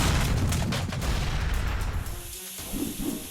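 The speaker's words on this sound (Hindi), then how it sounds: "डायनामाइट ज्यादा बढ़िया है। एक बड़ा धमाका होने वाला है।" A big dynamite blast booms at close range, a dense rumbling roar that fills the whole stretch and drops away briefly before a rumbling aftershock returns.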